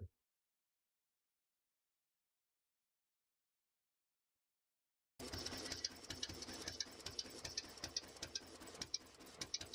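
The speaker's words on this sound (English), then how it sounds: "So can you hear the engine running?" After several seconds of silence, a small hit-and-miss engine starts running with rapid, irregular mechanical ticking and knocking, fairly faint and steady.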